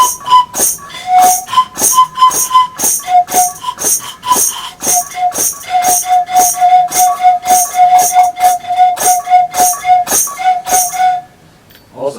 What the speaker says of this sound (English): I put on the other end this whistle.